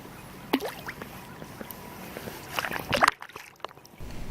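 A smallmouth bass being released back into a cold river, close sloshing and splashing water with a few sharp splashes near the end, plus handling noise and brief movement sounds.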